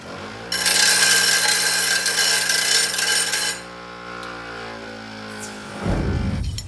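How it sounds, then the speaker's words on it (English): A file rasping burrs off the cut edge of a metal tube while making an oil pump primer tool for a 1926 Oakland, a loud steady scraping for about three seconds, then quieter handling sounds. "We got to get the burrs off."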